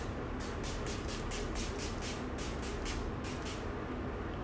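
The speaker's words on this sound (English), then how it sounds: "I'm going to spray my face with this." Setting spray for the face hisses out in a rapid series of about a dozen short mist bursts, close and fairly soft, with brief pauses between spritzes.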